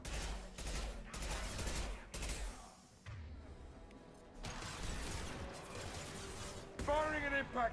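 Impact shot weapon fire in Mass Effect 2: sharp percussive gunfire bursts in quick succession, then a quieter lull before more firing, with voices briefly heard.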